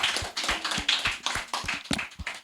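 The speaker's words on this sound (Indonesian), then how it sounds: "tepuk tangan teman-teman." A podcast audience claps hands for a short burst, a few close, quick, uneven claps with a light tapping quality and no talk over them.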